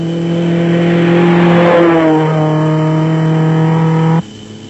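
A 1997 Toyota Hilux production-class truck in an off-road race roars loud and steady, its engine note rising and shifting before cutting off sharply near the end.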